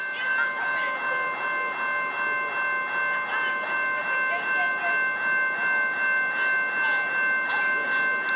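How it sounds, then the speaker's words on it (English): Distant EMD diesel freight locomotives on the Long Island Rail Road's Montauk Branch roar in a steady, droning rumble that holds throughout, with sustained tonal hums layered over the rail noise. "I can hear roaring EMDs in the distance."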